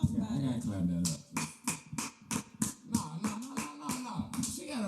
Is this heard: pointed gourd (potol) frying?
no